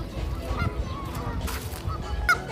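Geese honk at a lakeside RV campground among goslings, giving a few short, moderately near calls over low wind rumble and faint background noise.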